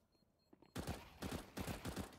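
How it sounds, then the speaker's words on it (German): Gunfire in Counter-Strike during a professional ESL One Cologne 2018 match on the Inferno map: quiet at first, then a rapid burst of several loud, sharp shots in quick succession. "da schießt Draken einmal zu oft daneben"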